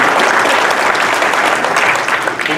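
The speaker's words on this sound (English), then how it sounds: "Why don't we give all our candidates a big round of applause?" A loud, dense burst of audience applause at a chamber of commerce candidate forum, sustained and steady from a sizable crowd close by.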